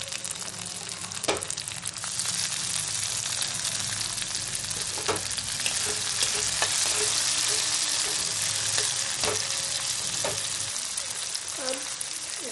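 Chopped tomato fries in a kadai of sautéed onion and chilies for a cauliflower-peas tadka, giving a steady, close, dense sizzle that runs the whole time, with a few sharp spoon clinks against the metal.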